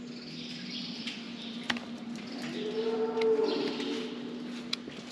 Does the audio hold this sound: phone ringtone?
no